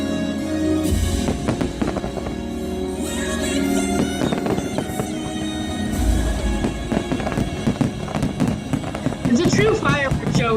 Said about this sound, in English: It's a true fireworks show for sure.